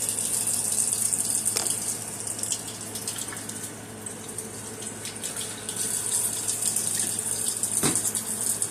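Eye round steak is rinsed under a running kitchen tap, a continuous close gushing splash of water into the sink that changes in texture as the meat moves, with occasional sharper drips and knocks.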